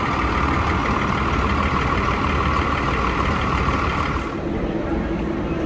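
Front-engine intercity bus on the Goiânia–Campos Belos route idling at the Goiânia bus station, a steady close diesel rumble with constant broadband engine noise throughout, easing slightly near the end.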